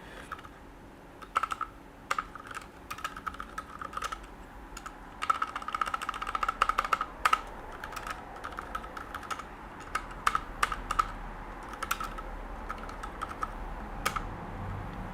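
Keystrokes on a computer keyboard during a live Linux kernel coding session, soft irregular clicks in quick bursts and pauses, close and quiet, with no one talking.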